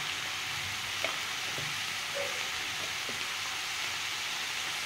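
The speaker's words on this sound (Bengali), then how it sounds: "জিরেটা ভালো করে একটু কষতে হবে।" Cumin and chili powder fry in a pan with a soft, steady hiss and faint crackle, quiet and continuous with a few light taps of a utensil.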